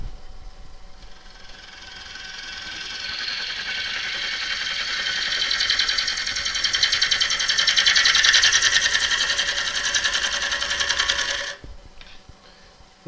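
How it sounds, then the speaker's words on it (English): A wood lathe spinning at 632 RPM while a tool cuts very hard maple gives a steady, close, rasping hiss that slowly builds in loudness and then cuts off near the end. "The lathe, if you're interested, is currently at 632 RPM, and this is very, very hard maple."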